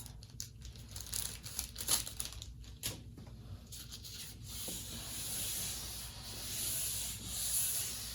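A tack cloth wiped over lightly sanded wood, a soft, close rubbing and crinkling of fabric on the surface in uneven strokes, faint and steady, with no talking.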